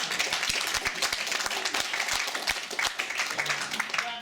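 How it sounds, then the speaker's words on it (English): An audience at a company vision event claps in a loose, uneven wash with some sharp individual claps standing out, sustained and fairly close for about four seconds. "we can clap"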